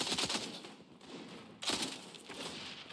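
An M60 machine gun firing in the game XDefiant, two fast rattling bursts separated by a short pause, fairly quiet and harsh-toned without any voices.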